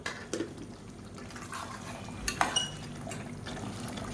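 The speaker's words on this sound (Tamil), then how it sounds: "இப்போ பாருங்கள் நல்லா தலை தலைன்னு கொதிக்க ஆரம்பிச்சிருச்சு" Mutton curry bubbling in a pot on the stove, a soft, faint simmer with occasional liquid pops and light clinks of utensils against the vessel, no talk.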